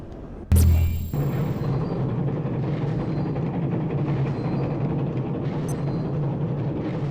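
A train running in the video game Abiotic Factor, starting with a sharp loud burst and then settling into a steady low rumble with rolling noise that carries on alone throughout.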